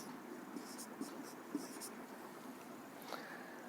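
Pen or pencil scratching out numbers by hand on paper during a Class 10 maths lesson, with faint, intermittent strokes that sit under a steady room hiss.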